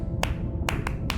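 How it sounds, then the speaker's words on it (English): Sperm whale codas of the Eastern Caribbean 1+1+3 type: a few sharp, distinct clicks in an uneven rhythm, faint over steady low underwater rumble. "Sperm whales make clicks in sort of rhythmic patterns that we call codas."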